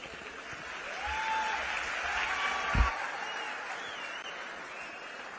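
Applause from an audience welcomes a young Chhattisgarh painter at a youth meeting with Chief Minister Bhupesh Baghel, moderate steady clapping with a faint whistle-like tone and one low thump midway.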